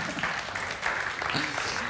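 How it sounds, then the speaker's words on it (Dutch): Applause for a whimsical 'most useless machine' gadget at a late-night technology and education show, a steady wash of clapping from a studio audience lasting the full two seconds, with some laughter or voices mixed in. "Nou, applaus voor de most useless machine."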